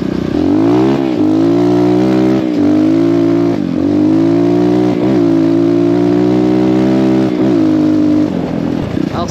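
A 2024 ERZ 250 Pro 250cc motocross bike engine blares loud and close, repeatedly revving up and dropping back in a series of rising whines and brief throttle cuts, with no voices.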